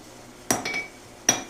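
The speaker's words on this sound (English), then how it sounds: "Now I'm just doing some final adjustment with the handheld hammer on my anvil." Handheld hammer striking a steel Japanese sashimi knife blade on an anvil during forging, two sharp ringing metallic blows with a lighter tap between them, close and clear with no talk.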